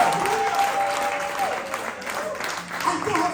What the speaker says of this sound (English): Clap for the way I'm dressed.